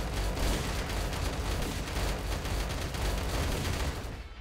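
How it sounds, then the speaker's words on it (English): Continuous dense machine gun fire from defensive turrets in the video game Nexus Defenders, a steady loud rattling barrage with no pauses that runs throughout. "we'll send all these guys through like a gauntlet of machine guns"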